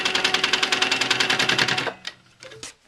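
A sewing machine runs steadily while stitching a quilt block, its rapid even needle rhythm lasting nearly two seconds before stopping, followed by a few quieter clicks and short mechanical taps.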